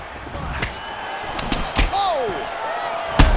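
Punches and kicks landing in a UFC 4 video game bout, a handful of sharp slapping impacts scattered across the moment, with excited commentary running underneath.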